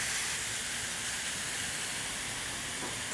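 Curry-marinated flank steak sizzling on a hot griddle over high heat gives a steady, dense hiss that stays even throughout with no voices.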